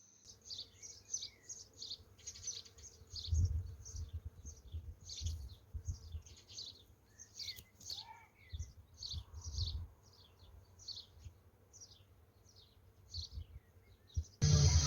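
Birds sing outdoors in a yard with apple trees while pork lard renders over a slow fire, bright repeated chirps and trills over a faint background hum, with occasional low thumps and no talking.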